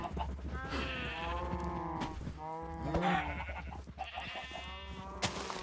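Minecraft cows mooing and lowing, several overlapping calls in a steady stream close by, a crowded herd bellowing continuously over a low hum.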